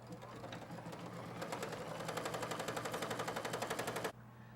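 An embroidery machine stitches a tack-down line on an in-the-hoop luggage tag, a rapid, even mechanical chatter of needle strokes that speeds up and continues steadily before stopping abruptly, heard close with a low hum underneath.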